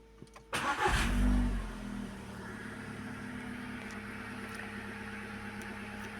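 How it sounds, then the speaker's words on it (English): A car engine with a bad ignition coil and P0300 misfire cranks and catches in a loud burst, then drops to a steady, slightly uneven idle that keeps running close by. "we're going to start the engine"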